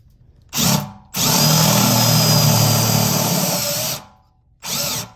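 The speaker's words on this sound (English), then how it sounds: "ready with the step bit, and I wanna try 1/4 inch first" A step bit bores through the metal lid of a Pit Boss Phoenix pellet-charcoal grill, first in a short loud burst, then in a steady three-second grinding run, then in one more brief burst.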